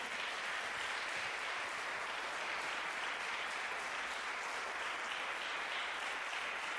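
Congregation in a church service clapping together for the Holy Spirit: dense, even applause held at a steady level throughout, fairly faint and distant-sounding, with no talk over it.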